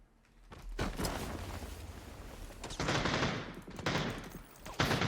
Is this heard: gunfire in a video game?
yes